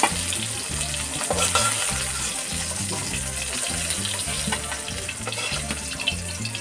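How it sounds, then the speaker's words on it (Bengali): Pangas fish frying in a wok of hot oil, with a broad continuous sizzle under a droning, repeating low tone throughout. "একেবারে হবে না সেজন্য দুইবারে মাছ ভাজছি আমরা"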